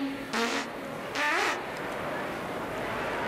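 A recorded fart in a farting contest, heard as two brief buzzy rasping blasts in quick succession, the second longer and fluttering, over a faint background hiss.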